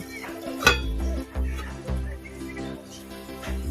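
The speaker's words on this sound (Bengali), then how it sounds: "আমি এবার ডিমগুলো দিয়ে দেবো এটা পাঁচ মিনিটের জন্য ঢেকে দেবো" A lid goes onto a pan of fish roe cooking in spiced masala, giving a sharp metallic clink followed by softer knocks and scrapes of cookware, near and moderately quiet.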